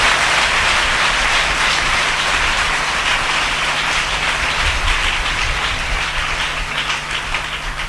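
A church congregation claps hands loudly and continuously during a pastor's sermon, a dense steady wash of applause with no pause over the whole stretch.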